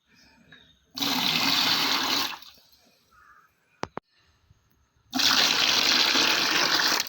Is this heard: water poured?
yes